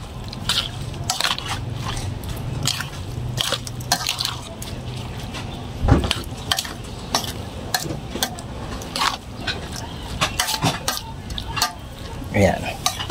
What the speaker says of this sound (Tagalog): Saka po natin haluin ulit.